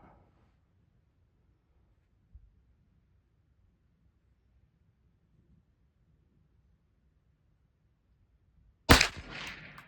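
A single sharp shot from a Ruger Mark IV Hunter pistol rings out near the end after a long quiet stretch, loud and close.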